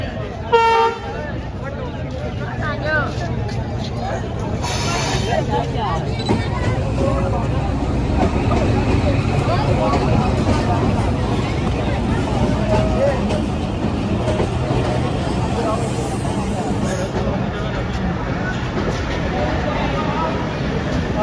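A train rumbles into Baddomali railway station with a short horn toot at the start, its steady roar lasting throughout beneath a murmur of voices on the platform.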